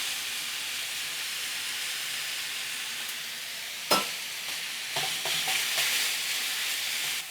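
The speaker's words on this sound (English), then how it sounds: "Cook until the pork is thoroughly done." Pork frying in a pan for a Thai sakoo sai moo filling, with black pepper added: a steady close sizzle and hiss, broken by a sharp clank of the utensil and then scraping stirring strokes, with no talking.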